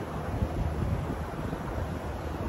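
Steady gusting wind noise at an RV stop where an American flag flaps in the breeze, a constant broadband rush with no speech.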